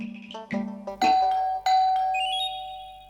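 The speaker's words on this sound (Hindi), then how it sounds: "अब ऐसा घंटी कौन बजा रहा है?" A doorbell chimes twice in quick succession, bright ding-dong tones ringing out and fading, loud and close.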